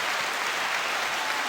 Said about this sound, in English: Let me clap for Cornell.